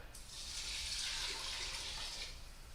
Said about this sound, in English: And I'm gonna add 4 cups